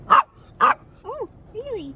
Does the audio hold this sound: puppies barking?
yes